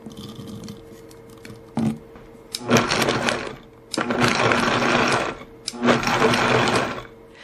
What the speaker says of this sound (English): just drop in a few ingredients at the end of the recipe and pulse a few times